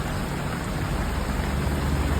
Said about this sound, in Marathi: पाऊसच पडतोय